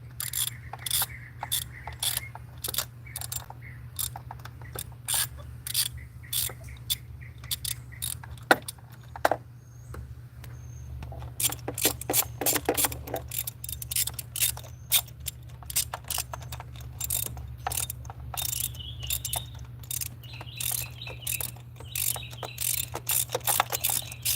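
Ratchet clicking in short irregular bursts while a new spark plug is threaded into a 2004 BMW E46, close and fairly quiet over a steady low hum, with brief pauses between runs of clicks.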